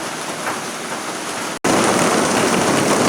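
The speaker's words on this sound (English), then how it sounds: "Now we've got icy bits in it. Hail. As well as rain." Rain mixed with icy hail falls in a loud, continuous hiss and clatter, and the sound cuts out for a split second midway before resuming even louder.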